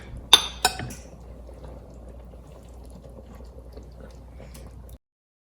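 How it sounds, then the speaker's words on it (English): Instant pot nihari being dished out starts with two sharp metallic clinks of a ladle against the pot, followed by quiet, soft scraping and pouring of the thick stew before silence. "So now let's go ahead and dish it out."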